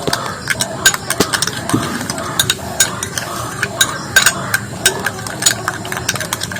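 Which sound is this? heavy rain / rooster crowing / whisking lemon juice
whisking lemon juice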